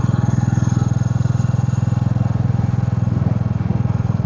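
A Royal Enfield Classic 350 motorcycle is ridden, its single-cylinder engine thumping in a loud, steady, rapid pulse close up, with a constant drone throughout and no clear gear change standing out.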